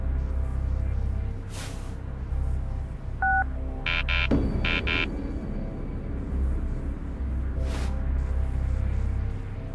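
A short sequence of electronic phone keypad tones in a video game, a quick pair then a few more beeps, over a steady low hum.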